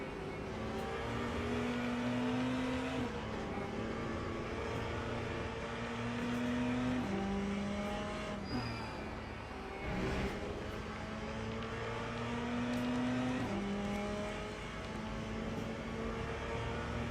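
Porsche GTE race car in Le Mans Ultimate, its engine droning loudly and steadily with repeated upshifts and pitch climbs, joined by other cars passing nearby.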